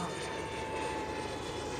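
A 22% scale ASW 17 RC glider of full carbon construction, fitted with a 250-size turbine, flies overhead with a steady, loud jet whine and rushing roar that holds constant throughout.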